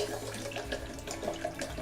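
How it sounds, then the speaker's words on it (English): Water pours steadily onto a cup of almonds in a kitchen for homemade almond milk, a continuous close splashing stream. "So I'm adding 2 cups of water to the 1 cup of almond"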